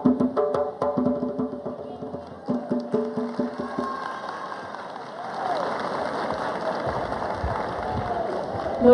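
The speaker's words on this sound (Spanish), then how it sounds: "Un aplauso para el ballet folclórico de Ayapel." At a government event in Ayapel, applause for the Ayapel folk ballet swells from a crowd after music fades, a dense, steady clapping that carries on for several seconds.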